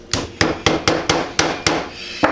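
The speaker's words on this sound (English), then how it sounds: "put it back in, and then just tap it on with a hammer" A hammer taps a sling attachment piece onto a Hi-Point 995TS carbine, seven or eight crisp metallic blows in an even, quick rhythm, close and loud, followed by a brief pause and one final tap.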